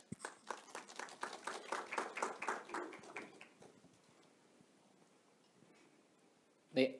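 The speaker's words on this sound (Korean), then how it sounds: "대표님을 박수로 모시겠습니다" At a business presentation, a small audience welcomes the next speaker with a short, sparse patter of claps that fades out after a few seconds into near silence, ending with a single sharp knock.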